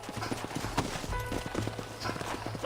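Horses' hooves clip-clop steadily on the ground in the Red Dead Redemption video game, a close, moderately loud rhythmic trot with faint background ambience.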